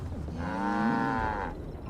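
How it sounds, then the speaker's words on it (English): Cattle lowing in Assassin's Creed Valhalla, Wrath of the Druids: a single long, loud, close moo that swells and fades over about a second and a half. "I know, cows."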